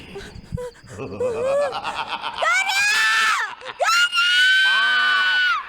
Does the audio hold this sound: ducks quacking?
no